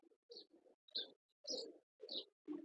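A Gul Fakir cross show pigeon cooing close by in a series of five short, soft rhythmic coos separated by brief pauses, with no speech.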